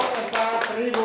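Classroom of students clapping for a winning group, a busy patter of hands with a couple of sharper bursts, mixed with voices chattering underneath.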